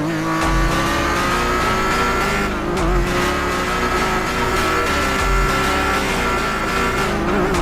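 A modified car engine in a GTA roleplay game revs with a loud, sustained droning hum and rising pitch, close and continuous with slight fluctuations, no voices.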